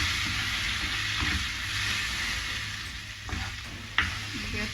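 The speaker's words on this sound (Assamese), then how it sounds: "এই বনাই থোৱা পেষ্টটো অলপমান এনেকৈ লৰাই থাকিম" Prepared spice paste for a paneer dish being stirred in a hot pan, with steady sizzling and scraping of the spoon, a few sharper clinks near the end, moderately close and without talk.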